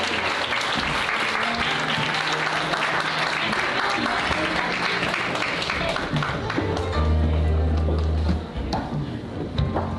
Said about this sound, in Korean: 올라오실 때 큰 박수 부탁드립니다.